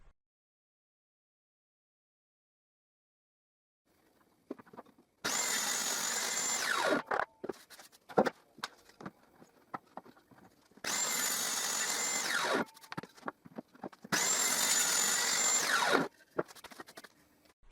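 A power saw cuts wooden workpieces on a miter sled in three loud bursts of several seconds each, separated by quieter gaps of knocks and handling clatter.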